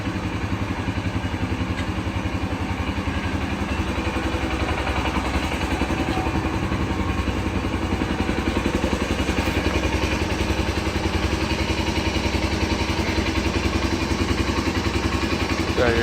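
A 2016 Polaris Ranger XP 570 utility vehicle idles just after start-up, a steady, close mid-pitched engine chugging with slight mechanical clatter that holds evenly throughout.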